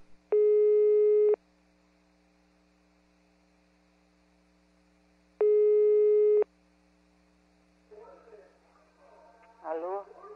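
Two long steady telephone line tones, each about a second, sound over a faint mains hum while a prank call is being placed, followed by brief muffled voices near the end.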